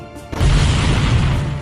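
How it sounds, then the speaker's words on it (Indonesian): A large explosion from two zombies trading punches in an animated fight, a sudden loud booming crash after a brief quieter lead-in, then a sustained heavy roaring rumble that fills the rest of the moment. "Adu pukulan antara mereka berdua pun sampai menghasilkan ledakan yang besar"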